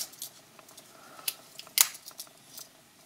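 The small scissors of a Victorinox Explorer Damast pocket knife snip and click several times, producing faint, crisp metallic snaps up close in a quiet room.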